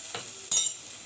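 Curry leaves dropped into hot oil for buttermilk upma, a short burst of sizzle and crackle that flares up and quickly settles into a softer fizz.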